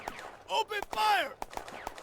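Gunfire in the WWII strategy game Firefight, set at Villers Bocage, comes as a rapid string of sharp shots with several close cracks. A short shouted voice sounds between the bursts.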